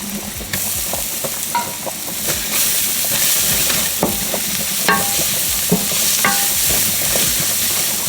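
Garlic frying in a pan with butter for a chicken Alfredo lasagna roll sauce: a steady, close sizzle with scattered scraping stirs throughout, and no talking.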